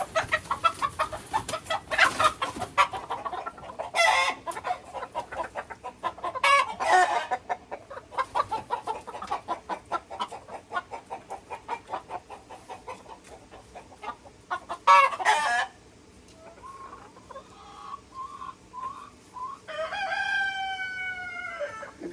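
Olive Egger hens in a backyard flock cluck loudly and repeatedly in irregular bursts close by, and a rooster's crow rises clearly near the end.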